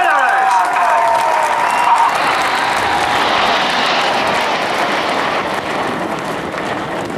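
RAF Red Arrows jets roar past at an air show, a loud sweeping rush that fades slightly over several seconds, with a crowd cheering and applauding beneath it.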